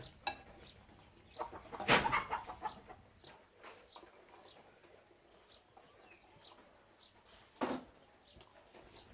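Chickens roam and forage outdoors, giving scattered soft clucks across the scene, with two sharper louder bursts standing out against quiet rural ambience.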